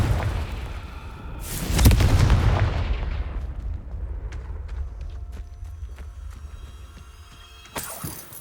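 A Confringo fire spell from Hogwarts Legacy bursts in a heavy booming blast that rolls and crackles as it fades over several seconds, followed by scattered light clicks and a second softer whoosh.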